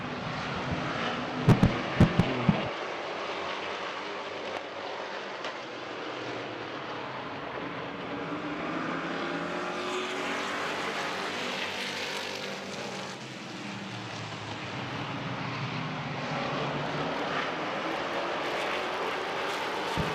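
Race cars roaring around a short speedway oval during a championship-night battle for the lead, a continuous loud engine drone that swells and fades as the pack passes, with no talk over it.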